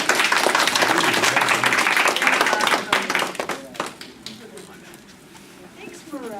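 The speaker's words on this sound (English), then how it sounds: "Let's give her a round of applause." Audience applause at an ASME meeting, a dense spread of clapping that runs strongly for about three seconds, then thins out and fades beneath voices talking in the room.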